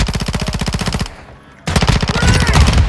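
Automatic gunfire rattles in a video game, close and loud in a steady rapid stream. It stops for about half a second, then a second sustained burst picks up.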